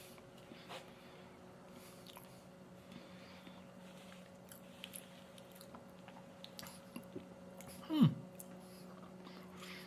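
Someone chews a Gansito sponge cake snack up close, with soft, scattered bites and mouth sounds over a quiet hum and one louder bite or crunch near the end.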